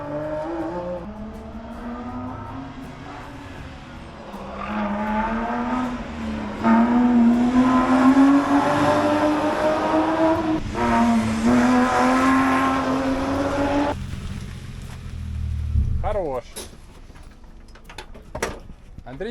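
Car drifting on the Ltava race track in Poltava after a handbrake pull, with a steady, loud engine drone rising in pitch, a noisy tire-skid stretch in the middle and a sudden drop-off near the end, plus a few sharp clicks.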